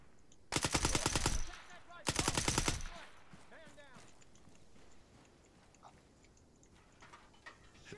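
Bursts of machine gun fire in the video game Antistasi, two loud rapid-fire volleys about a second each, followed by quieter scattered clicks and distant sounds while people talk.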